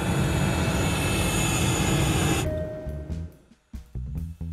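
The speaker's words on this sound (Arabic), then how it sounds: "نحن على وشك الهبوط، يرجى ربط أحزمة الأمان" A passenger airplane touching down, heard from inside the cabin as a loud, steady engine and air roar that suddenly drops away into thumps and rumbling, with no voices.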